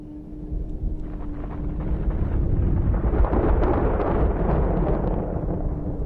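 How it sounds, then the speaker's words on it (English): Low thunder growls and echoes through hills ahead of a large storm, a deep rumble that swells gradually and stays loud and sustained, with a wind-like wash. "Echoing through the hills, the low growl of thunder threatens that this is going to be an especially large storm."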